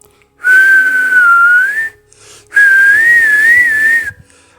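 A person whistles two long, clear sustained tones, each with a gently wavering pitch, close and loud, separated by a brief pause, with no talking.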